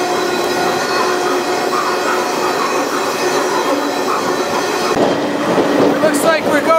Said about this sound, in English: This train is roaring through another dismal Indiana town.